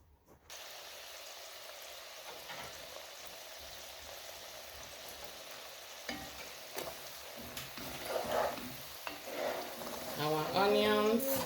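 Onions fry in a pot with a soft, steady sizzle, joined by occasional stirring knocks and a short stretch of talking near the end.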